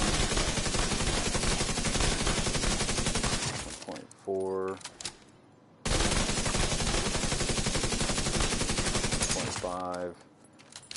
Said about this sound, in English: Now let's see what we get for headshots.